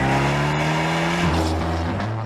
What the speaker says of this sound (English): the 124 does sound better